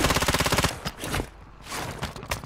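Rapid automatic gunfire from Call of Duty: Modern Warfare III, a loud fast burst of shots for under a second, followed by scattered single shots and game noise.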